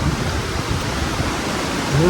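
Steady rushing of flowing river water, broad and constant, heard close with no distinct voices.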